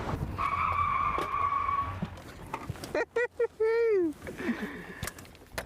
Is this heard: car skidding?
yes